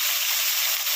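Ground spice paste with black cumin hits hot oil in a pan, giving a steady bright hiss and sizzle that holds even throughout the short moment.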